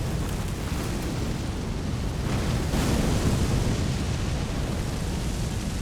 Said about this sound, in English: I almost feel like I caused that explosion, but I don't think I did.